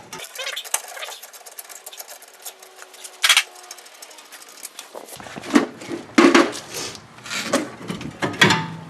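Top bolt being worked loose on the rear brake of a 2011 Toyota RAV4, heard as bursts of close mechanical ratcheting and metallic clicking with short pauses, growing busier and louder toward the end.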